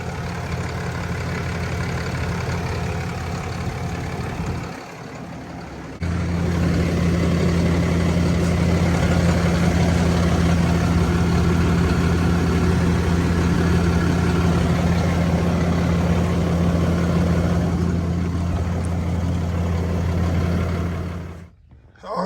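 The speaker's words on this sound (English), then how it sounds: "we started the engine" A 2021 RAM 5500 with a Cummins diesel engine starts and settles into a steady, loud idle with a deep, even drone and constant clatter that runs unbroken for about fifteen seconds before cutting off.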